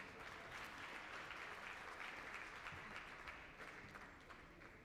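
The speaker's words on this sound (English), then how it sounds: "A round of applause for our medalist." Steady applause from a crowd at a national schools cross country championship honours a medalist, a dense, even roar of many hands clapping that tapers slightly at the end.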